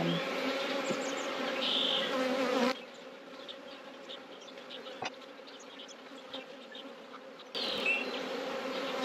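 Honeybees buzz steadily around an open hive during a late-winter inspection, a dense close drone with louder passes near the start and end.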